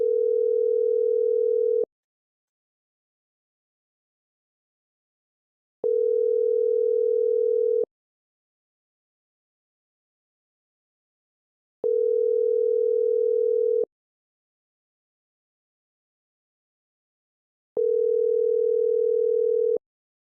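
Telephone ringback tone on an outgoing call: four long, steady electronic buzzes of about two seconds each, separated by roughly four-second silences, clear and alone with no voices.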